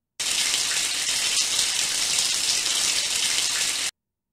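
Shower water running in a backstage shower after a wrestling show, a steady hiss of spray that starts abruptly, holds even and loud for several seconds, then stops.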